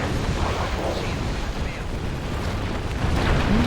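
The trifluoride torpedo weapon fires in a space video game, a loud rumbling, eruptive blast that rolls on continuously with dense low-end roar, a sharp tone rising near the end.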